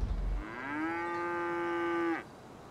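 A single long, loud cow moo from a video game rings out clearly for about two seconds, with a rising start and an abrupt end, with no talk over it.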